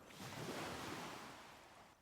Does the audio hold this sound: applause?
no